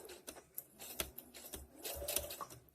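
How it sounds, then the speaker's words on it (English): A sewing machine runs back and forth in short bursts while stitching along the edge of jeans, its quiet, uneven whir close by with small mechanical clicks and no talk. "still sewing on the jeans. Into the edge, back and forth stitch."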